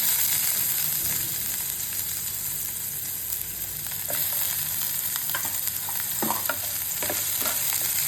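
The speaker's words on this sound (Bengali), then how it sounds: "তেলের মধ্যে দিয়ে দিচ্ছি পেঁয়াজ কুচি।" Chopped onion sizzles in hot oil in a kadai, with a steady frying hiss and occasional scraping clicks as it is stirred, no voices present.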